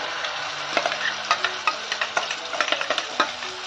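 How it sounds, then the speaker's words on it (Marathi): Ground masala paste with bay leaf for veg Kolhapuri sizzling in hot oil, with a spoon scraping and clacking against the pan in quick irregular strokes, close and fairly loud, with no talking. "जे वाटण आपण बनवून घेतलेलं आहे ते संपूर्ण यामध्ये टाकून घ्यायचं"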